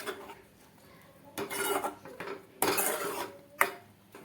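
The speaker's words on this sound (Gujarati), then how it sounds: "હવે તેને સારી રીતે મિક્સ કરી દઈએ" Ingredients for a tomato chutney being stirred in a pan, with a few bursts of scraping and clinking from the utensil against the metal, separated by quiet gaps.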